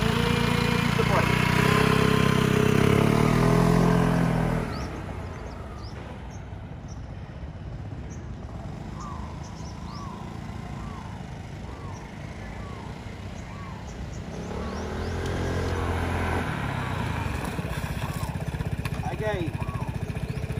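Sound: scooter engine with throttle applied

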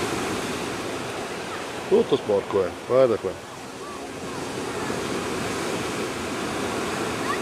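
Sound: sea waves

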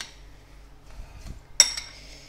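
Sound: spoon mixing sugar into milk in a bowl

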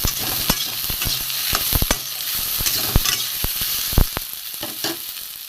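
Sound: frying chopped onion with okra

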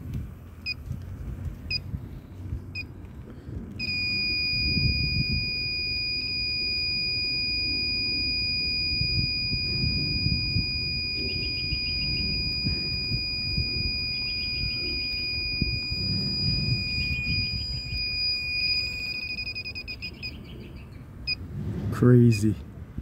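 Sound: refrigerant leak detector beeping on a Fujitsu mini split

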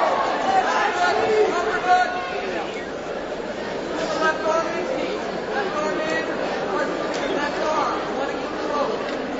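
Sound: fight crowd at an MMA bout

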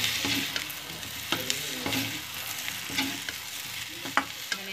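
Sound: potatoes being mixed and fried in a pan

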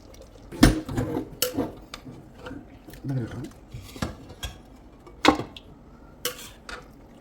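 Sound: transferring mutton curry from cooker to serving bowl

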